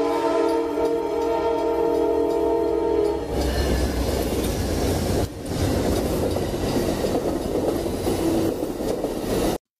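A train rolls along railroad tracks close by, opening with a sustained blaring horn for about three seconds, then a loud continuous rumble and rattle of the cars.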